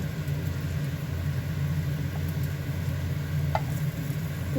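Steady sizzling of liver patty batter frying in hot oil, a continuous crackle over a low background rumble, with a brief clink partway through.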